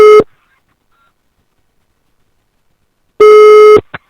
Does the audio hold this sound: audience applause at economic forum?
no